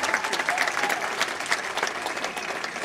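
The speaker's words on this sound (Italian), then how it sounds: "un applauso per Ina Infurna ancora una volta" A crowd applauds for Ina Infurna at a civic event in Siculiana, dense and continuous clapping at close range, with faint murmuring voices mixed in.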